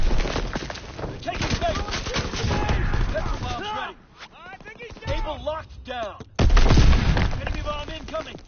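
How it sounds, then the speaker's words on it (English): Artillery shells and bomb blasts crash through a WWII video game battle, a dense, loud barrage of booms and rapid gunfire with shouted voices mixed in, a brief lull, then another heavy burst near the end. "bomb incoming. Get to cover."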